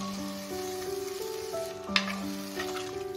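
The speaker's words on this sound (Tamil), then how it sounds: "சேர்த்துட்டு ஒரு கலக்கி கலக்கலாம்." Mutton curry sizzles and fries in a clay pot while being stirred, a steady hiss with scraping stir strokes and one sharp clink near the middle.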